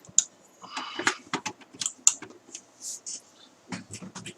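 Someone taps at a computer keyboard while setting up a Dell PowerEdge server, a loose run of close, crisp keystrokes in short irregular bursts with brief pauses between them.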